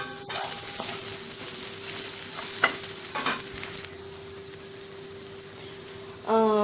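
Onion, ten to twelve garlic cloves and an inch-long piece of ginger sauté in a pan, a constant close sizzle broken by a few stirring clatters and a faint steady hum, with no voices.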